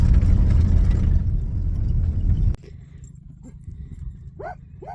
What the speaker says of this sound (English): Dogs are having a good time this morning.